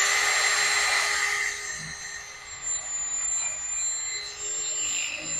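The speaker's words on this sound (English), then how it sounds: "I'm just wallering this hole out a little bit so it'll fit over my hardware that I got" A drill widens a hole in a part of an old Simplicity rear-engine mower, whining at a high pitch that softens after the first couple of seconds and then stays steady and close.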